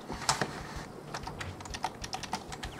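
Computer keyboard keys pressed at random by a pet's paw, giving a run of close, irregular clicks and taps of varying loudness with no talk.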